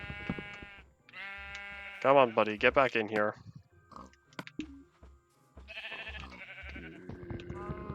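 Blocky sheep in Minecraft bleat several times in short wavering calls, loud and close, while someone talks over and between them, coaxing the animals.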